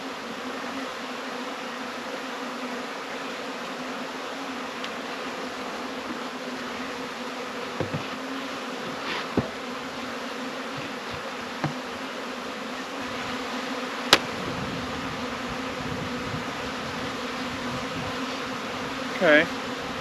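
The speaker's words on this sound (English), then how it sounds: "Okay bees, move out the way." Bees buzz continuously close by, a dense droning hum with occasional light taps and knocks.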